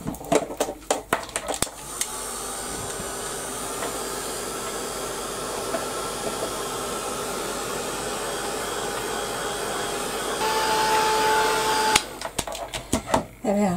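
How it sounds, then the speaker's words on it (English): A heat gun blows steadily for about ten seconds while drying a paint-covered journal page, a loud continuous hiss and whir that ends abruptly, with brief handling noises before and after. "I'm going to get my heat gun and dry that off."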